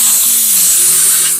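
Compressed air blasting inside a car to clean the dashboard and interior, a loud continuous hiss close up with no talking.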